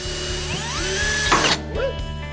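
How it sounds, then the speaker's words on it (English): A whining power drill with a titanium bit runs steadily drilling small pilot holes, its pitch rising and dipping as the bit bites in, with mechanical rattling and no voices. "then I drilled small pilot holes with a titanium bit"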